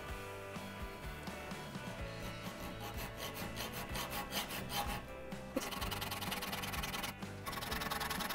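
Rhythmic rasping strokes of a 1/4-inch hand file working metal at a framebuilder's bench, repeating steadily and close, with no speech.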